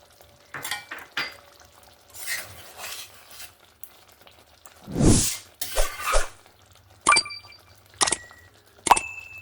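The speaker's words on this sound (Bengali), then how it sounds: "ধনেপাতাটা দিয়ে ভালো করে আমি নাড়াচাড়া করে নিয়েছি।" Coriander leaves are stirred into a Punjabi-style fish curry in a pan, with scattered scraping strokes and a few sharp utensil clinks near the end, close and moderately loud, with no talking.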